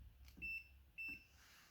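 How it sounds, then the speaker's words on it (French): A multimeter in continuity mode gives two short, faint high-pitched beeps about half a second apart while probing a Toshiba Satellite laptop's circuit board in a quiet room. "Le bip fonctionne."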